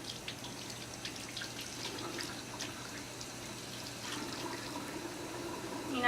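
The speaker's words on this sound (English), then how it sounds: "when you're ready to rinse, you rinse your hands in a downward position till the soap is all off" A sink tap runs steadily as soapy hands are rinsed under it, a soft, even wash of flowing water at moderate distance with faint splashy detail throughout.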